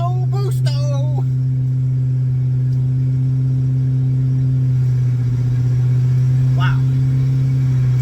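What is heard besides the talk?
car engine with TS84 TorqStorm supercharger revving under boost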